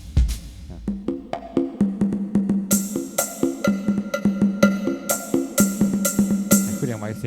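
A steady electronic drum pattern from a Casio LK-55 keyboard loops with punchy kick and bright snare hits in a regular rhythm over sustained keyboard tones, close and loud.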